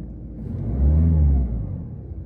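A car engine running rough during a Launch X431 diagnostic check gives a low rumbling hum that swells and then fades over about two seconds, close and alone.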